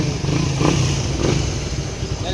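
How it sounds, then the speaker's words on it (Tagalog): A Suzuki Raider 150 fuel-injected motorcycle runs after a general engine overhaul, giving a steady, close engine drone with a slight rise in revs partway through. "Matahimik na ang makina natin"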